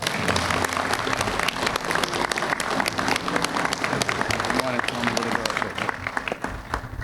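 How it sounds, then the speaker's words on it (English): Audience at a veterans' department convention gives sustained applause, a dense, steady wash of clapping from a large crowd lasting several seconds, with some voices mixed in. "Let's give him a round of applause."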